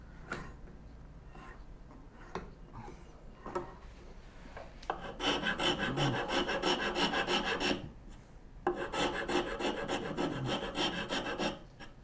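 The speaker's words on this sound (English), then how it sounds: "That should be about all I need to do with Big Boy Extreme Rasp." A Big Boy Extreme rasp files wood on a bow saw. A few scattered short strokes come first, then two long runs of rapid, rhythmic rasping strokes, close and fairly loud, with a brief pause between them.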